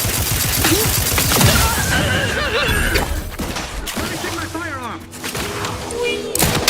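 Gunfire in The Outer Worlds 2 video game, a steady barrage of rapid shots mixed with game effects and a synthetic voice, persisting loudly throughout.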